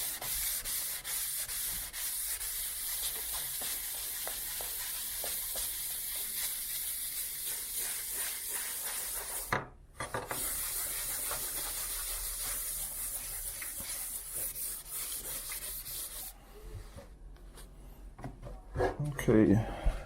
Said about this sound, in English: I'm going to use the soft part of the sanding block.